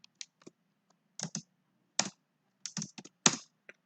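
Someone types code on a computer keyboard in short irregular bursts: single crisp key clicks and quick pairs separated by pauses, close and clear against silence, with no talk.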